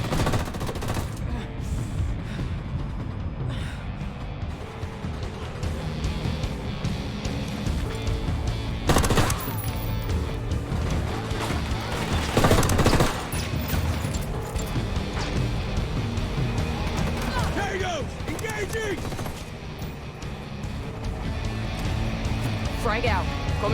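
Automatic and scattered gunfire in a Ghost Recon Wildlands firefight, continuous across the scene with sharper loud bursts, mixed with shouted voices and ambient battle noise.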